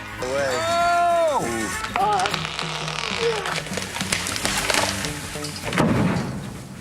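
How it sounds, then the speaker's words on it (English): A large tree cracks, splinters and crashes down near houses and sheds, a loud woody breaking and thud heard under excited talking and background music. "Trees crashing into large homes, small sheds, and whatever else."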